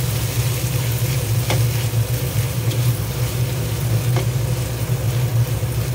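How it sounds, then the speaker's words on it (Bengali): Chopped onion frying in hot oil with whole garam masala spices, the base for a keema ghugni, gives a steady, continuous sizzle over a low hum, with no talking. "এবার পেঁয়াজ কুচিটা দিয়ে পেঁয়াজ কুচিটা ভালো করে তেলের সাথে মিশিয়ে নিচ্ছি"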